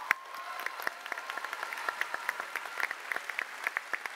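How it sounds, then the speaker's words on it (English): A live convention audience at a PAX West panel celebrating The Witcher bursts into a round of applause, with dense, steady clapping from a moderately sized crowd, fairly close and sustained throughout. "You got, a round of applause."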